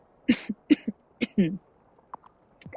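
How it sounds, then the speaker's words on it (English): A character in the video game Wylde Flowers gives a short series of close, quiet coughs and throat-clearing hacks, then a few softer sounds trail off. "I have a cough."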